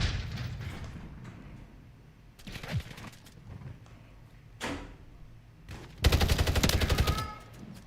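Bursts of fire from the SOA Subverter 'Death Swine' rifle in Call of Duty Modern Warfare III: scattered single loud reports, then a sustained rapid automatic burst near the end, with quieter game ambience between.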